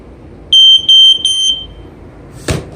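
A Sears 302.57475 smoke alarm with silencer, its sensor recently cleaned, gives three loud, piercing high-pitched beeps in quick succession, followed by a short rustle or handling noise.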